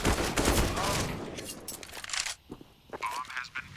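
Pistol shots in a Counter-Strike match, a quick cluster of sharp cracks up front that thins out into scattered pops, with a commentator's voice running over the action.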